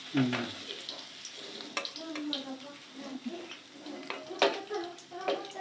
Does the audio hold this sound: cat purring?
no